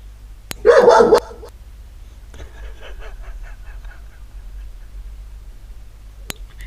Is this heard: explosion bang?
no